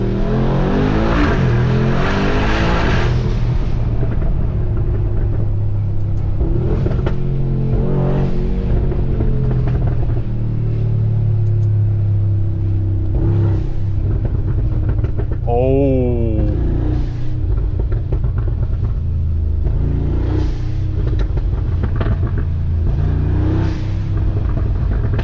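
A 900 HP Brabus XLP900 Rocket's engine is heard from inside the cabin, building in loud, deep rumbling surges as it accelerates and revs hard, with repeated pulls and gear changes over about twenty-five seconds.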